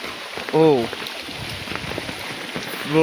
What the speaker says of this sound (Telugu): ఈ వర్షం ఇది నీళ్ళు వస్తున్నాయి కదా, ఇక్కడ నుంచి మొత్తం పోతుంది.